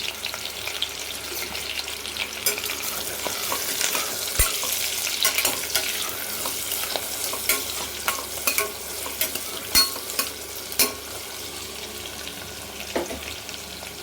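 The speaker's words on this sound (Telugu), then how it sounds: "ఇవి ఇలా వేగుతున్నాయి కదండి." Ingredients frying in oil for chicken biryani, a continuous close sizzle broken by repeated stirring scrapes and clinks against the pan.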